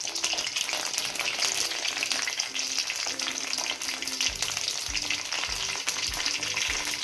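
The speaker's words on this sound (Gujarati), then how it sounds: "હવે તલ આપણા ફૂટી ગયા છે" Sesame seeds crackle and sizzle in hot oil, a dense steady frying hiss with soft stirring thumps near the end.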